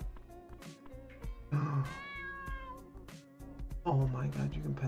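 A cartoon cat meows in the Dave the Diver video game as it is petted. Several short tonal meows come through clearly, layered over game music and a person talking.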